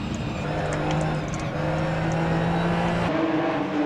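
Porsche Cup race car engine in Automobilista 2 at Brands Hatch, a steady loud droning note that holds through a gear change near the end, with a higher pitch afterward.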